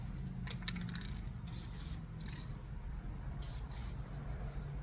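Bursts of Duplicolor anodized spray paint hissing onto a Jackson JS22 guitar body, several short hissing sprays with pauses between them, fairly quiet over a low room rumble.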